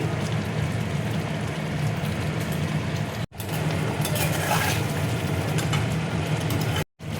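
Soya chunk tikki cooking in a pan with chopped coriander leaves, giving a steady, moderately loud frying hiss with light stirring and utensil scrapes throughout, broken by two brief silent gaps.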